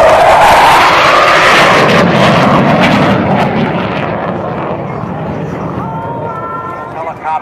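An F-4 Phantom jet pulls hard past the crowd at a Vietnam re-enactment air show, a loud roaring rush that sweeps upward and then slowly fades into the distance, with an announcer speaking over it.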